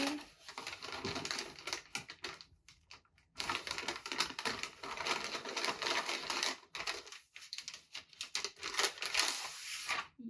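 Wrapping paper being torn off a present in bursts of crackling rips and crinkles, close up, with short pauses between the tears.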